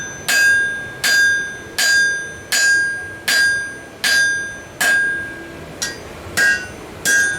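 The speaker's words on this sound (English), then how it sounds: "swing my hammer so it don't hurt my wrist as bad" A hammer strikes metal in a steady rhythm, about nine ringing blows, each with a bright metallic clang that decays before the next hit.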